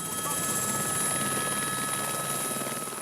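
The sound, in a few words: helicopter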